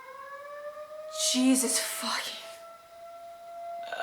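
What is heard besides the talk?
monthly Saturday civil defense siren going off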